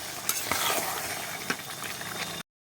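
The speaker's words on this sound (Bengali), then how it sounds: "এখন শুধু কষিয়ে নিতে হবে" Meat sautés in a pan with little oil as it is stirred, giving a steady sizzle with a few sharp scraping knocks, then cutting off abruptly.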